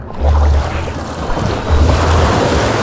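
Rough ocean surf roars continuously up close where a small boat struggles to land, with heavy wind buffeting the microphone throughout and no voices.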